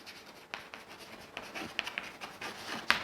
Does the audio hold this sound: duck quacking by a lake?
no